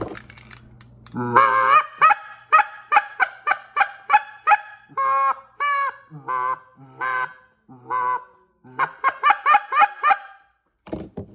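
A goose call blown in a long series of loud honks, some single, some in quick clucking runs, up close with no talking.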